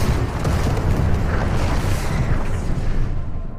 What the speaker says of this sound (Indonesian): bom di dalam pesawat meledak